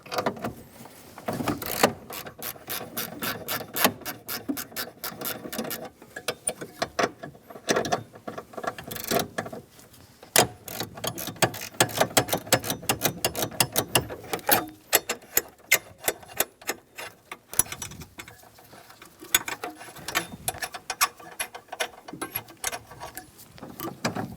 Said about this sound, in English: Using a 15mm socket, we're going to remove the 4 nuts for this circle brace.